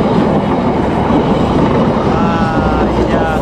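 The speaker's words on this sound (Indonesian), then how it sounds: "Kereta api Argo Parayangan guys," A stainless-steel Argo Parahyangan passenger train running from Gambir to Bandung rushes past at speed, a loud steady roar of wheels and rail noise with faint clattering throughout.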